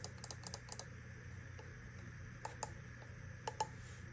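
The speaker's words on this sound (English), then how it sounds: "here's the click test. The original on the left is a much deeper click" Button clicks from a Kensington Slimblade Pro wireless trackball, a quick cluster of crisp clicks near the start followed by a few spaced pairs, close and fairly quiet over a steady low hum.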